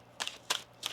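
A tarot card deck is shuffled in three quick, close riffling bursts, each crisp and brief, with short quiet gaps between them and no talking.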